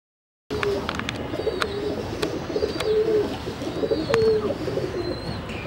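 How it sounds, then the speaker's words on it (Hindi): Teddy pigeons in a fancier's loft coo repeatedly in low, throaty rolls, close by, with scattered sharp clicks and wing flutters between the calls. "ये जी उस्ताद मियाँ नदीम बिश्ती साहब वाले कबूतर हैं, टेडी कबूतर 72 नंबर।"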